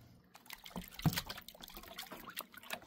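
Black sands being panned for gold in water, with soft splashing, trickling and sloshing in irregular bursts close by and no talk.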